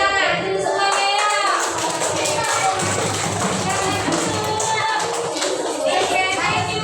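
Children in a classroom clap their hands together in a steady burst of taps, with kids' voices and chatter continuing over the clapping throughout.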